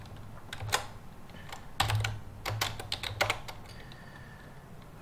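Typing on a computer keyboard: irregular bursts of crisp key clicks, fairly quiet and close, with pauses between short runs of keystrokes.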